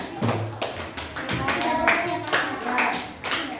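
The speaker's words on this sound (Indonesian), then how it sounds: "Sudah selesai tepuk tangan untuk kelompok 6." A class of fourth-grade children claps for a student group in a classroom, a busy patter of hands running through the whole stretch at steady volume, with a teacher's voice talking over it.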